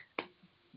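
A single crisp finger snap, given as virtual applause at a police commission meeting, sounds close and alone in a quiet room, followed by faint low murmurs.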